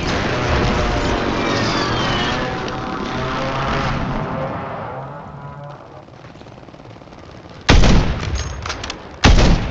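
An XRX Stalker gun fires in the Warzone video game, two sharp, loud blasts near the end, following a stretch of droning, warbling tones.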